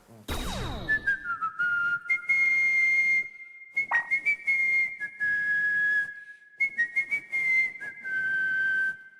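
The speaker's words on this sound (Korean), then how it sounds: "휘파람 부른다고?" A clear whistled melody plays in short phrases with brief pauses, bright and close, over soft musical backing.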